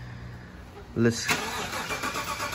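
GMC Sierra pickup truck engine cranking and catching about one second in, then settling into a quiet idle, with a person speaking briefly over it.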